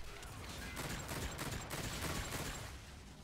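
Bursts of video game gunfire rattle densely for several seconds, a steady wash of rapid shots from an online shooter match using a DLC weapon, fairly uniform in loudness with no talk.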